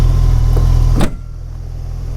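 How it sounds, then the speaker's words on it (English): On a BMW E30 Touring, the hood is lowered and shut with a single solid thud at about one second over a loud idling engine hum, which turns duller and quieter once the hood is closed. "Lower the hood the old BMW style."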